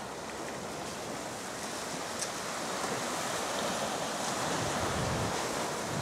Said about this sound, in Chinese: 喏，这就是海边